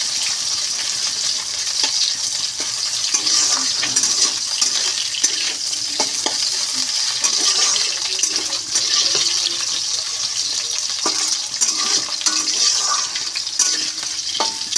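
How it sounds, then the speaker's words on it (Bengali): Potato pieces fry in hot oil with cumin, giving a steady, close, loud sizzle with crackles and occasional stirring scrapes throughout, and no talking. "এই যে আলুটাকে এখন ভালো করে ভেজে নেব লাল লাল করে আলুটাকে ভেজে নেব ভালো করে"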